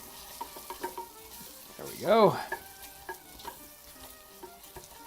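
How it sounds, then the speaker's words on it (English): Onions and lemon peel sizzle and crackle steadily in a hot frying pan over a fire, with stirring noises and a brief voiced sound in the middle, and a few words spoken over it. "A little bit of sizzle, obviously, might happen while we're adding these things."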